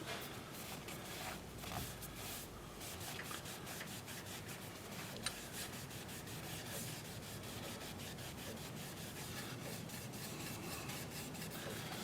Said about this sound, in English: the nice thing about hardwood like this is it sands up so nicely